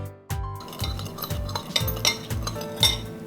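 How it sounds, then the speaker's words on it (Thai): A utensil stirs a marinade of fish sauce and sugar in a bowl, making close, rhythmic scraping strokes about twice a second with light metallic clinks. "คนพอประมาณนะครับ"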